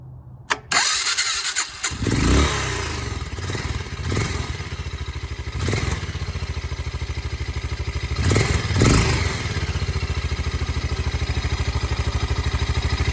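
A Suzuki Savage 650 motorcycle cranks and fires up, catching quickly into a loud, steady, close-up single-cylinder idle with a lumpy pulsing rhythm and a few throttle blips.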